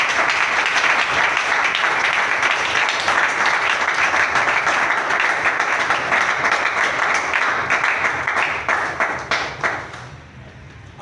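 A church congregation claps and cheers loudly and continuously during a service, a dense wall of applause that holds for several seconds before thinning into scattered claps and fading out.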